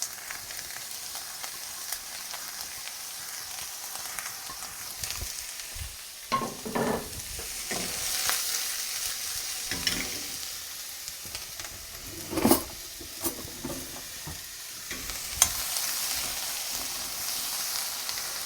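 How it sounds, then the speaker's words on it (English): Chopped vegetables, including onions, sizzle in olive oil in a soup pot for chicken noodle soup, a continuous soft frying hiss broken by occasional scraping stirs and clattering bumps. "I'm going to add our vegetables."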